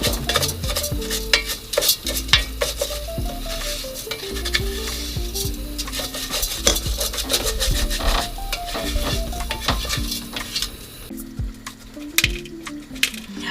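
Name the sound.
rice frying with broth and butter in a pan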